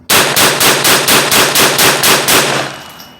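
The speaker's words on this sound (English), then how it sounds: "I'm gonna do 10 rounds rapid fire" An HK416 .22LR rifle fires about ten rapid shots in a steady, evenly spaced string, each crack loud and close, with no talking.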